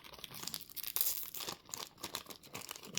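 Fingers crinkle and tear at the plastic wrapper of a Digimon TCG booster pack, a quiet, close run of irregular crumpling and ripping noises lasting the whole stretch, with no talk over it.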